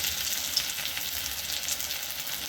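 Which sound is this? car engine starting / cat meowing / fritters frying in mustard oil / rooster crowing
fritters frying in mustard oil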